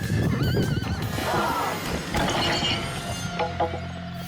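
A horse whinnies loudly with a rising, wavering call while attempting a gate jump, over clattering hooves and mechanical rattling, then quieter thuds and rustle follow.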